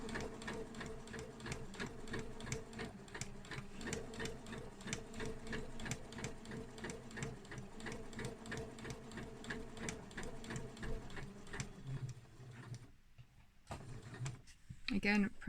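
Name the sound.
sewing machine stitching fabric for a zip purse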